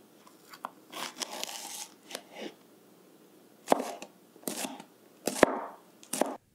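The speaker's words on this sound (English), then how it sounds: "I really like the chopping sounds of the jalapeno" Crisp, irregular knife chops through a jalapeño on a cutting board, with sharp crunchy slices and short pauses between strokes, close and fairly quiet.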